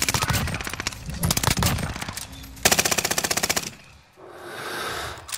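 Rapid automatic gunfire in a video game shootout rattles in loud close bursts, broken by short pauses and a quieter stretch near the end.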